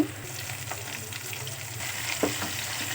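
Onions, garlic and tomato sauté in a hot pan, giving a steady low sizzle and frying crackle with occasional stirring scrapes, close and moderately quiet throughout, with no talking.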